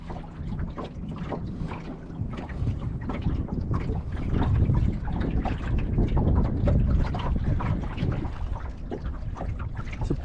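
A lugger sailboat under sail on a breezy day: continuous rushing wind buffeting the microphone, mixed with water washing past the hull, swelling louder midway, with no talking.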